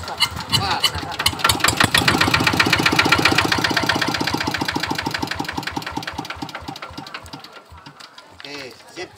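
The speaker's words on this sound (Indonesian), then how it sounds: "Dan kompres ditarik dan mulai diengkol." A decompressed engine is kick-started and catches, a loud, rapid, close chugging that builds quickly, then gradually slows and softens, with voices talking over it.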